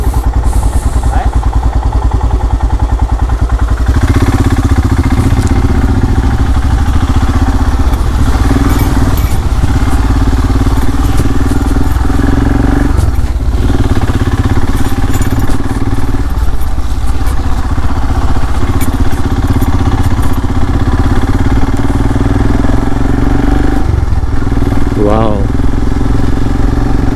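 A motorcycle rides through monsoon weather on the route to Tamhini Ghat, its engine droning loud and steady throughout, mixed with wind and road rumble.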